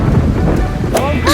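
Rain and thunder sound effect, a loud rumbling storm with heavy rain and wind noise throughout, with brief tonal sounds near the end.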